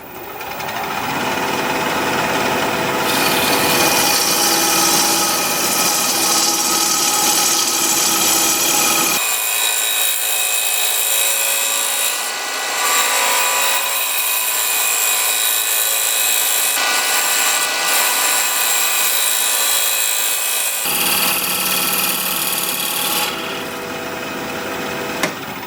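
A tool shear scrapes a spinning curly maple piece on a wood lathe, giving a loud continuous rasping whir that shifts in tone as the cut changes, with no voices.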